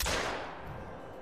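Several rifle shots ring out while bird hunting in the game theHunter: Call of the Wild, a loud sharp crack up front trailing into a long rolling echo that fades over about a second.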